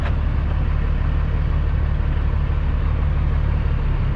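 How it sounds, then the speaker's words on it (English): A steady low engine rumble from a nearby car, heard from a truck, continuous and even throughout with no voices, like a car rolling past close by. "I'm gonna stop here and let that car pass."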